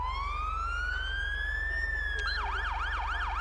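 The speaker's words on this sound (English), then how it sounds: "here's my new siren, guys. It's going to be a Code 3 Z3 siren." A Code 3 Z3 police siren in the video game GTA 5 sweeps up in a long rising wail, then switches abruptly to a fast, repeating yelp over a steady low hum.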